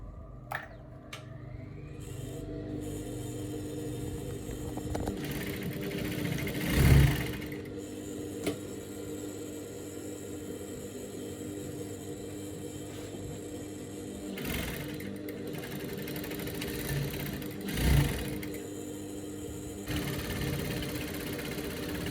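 A sewing machine stitches the side seams of a dress in a steady, continuous hum that runs nearly unbroken, with a couple of brief louder surges where the pace picks up; close and fairly quiet, with no talk.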